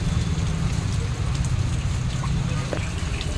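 Heavy rain pours steadily on an open farmers' market in Bhadradri Kothagudem district, a dense, constant close hiss with a low rumble that holds unbroken throughout.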